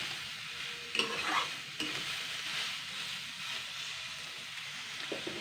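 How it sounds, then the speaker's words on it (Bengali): Water spinach with turmeric stirred in a nearly oil-free pan, giving a quiet soft sizzle with a few scraping stir strokes near the start, fairly faint and steady. "এবার আমি জাস্ট একটু এক মিনিট হালকা নাড়াচাড়া করে নেবো যাতে হলুদের কাঁচা গন্ধটা চলে যায়"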